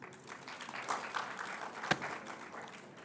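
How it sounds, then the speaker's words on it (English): Audience applause at a school festival opening ceremony, a steady wash of clapping from a crowd lasting about three seconds with one sharper clap standing out near the middle. "Let's give him another round of applause."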